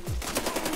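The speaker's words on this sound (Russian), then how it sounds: "Вот это стрельба." Rapid bursts of automatic gunfire crackle loudly and continuously, a dense rattling volley with no pauses.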